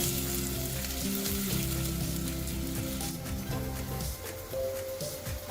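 Chopped onions fry in oil in a pan for mixed dal, giving a loud, steady sizzle and crackle that lasts throughout with no talking.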